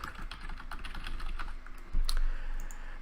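Rapid close-up keystrokes on a computer keyboard as a funnel name is typed in, a dense run of clicks followed by a sharper key press near the end.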